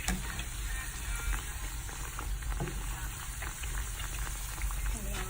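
Three empanadas frying in a small pot of oil, a continuous close crackle and sizzle with scattered pops, with some faint background voice or movement.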